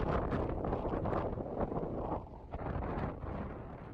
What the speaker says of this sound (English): I can barely stand up in this wind